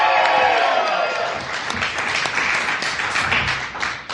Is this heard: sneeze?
no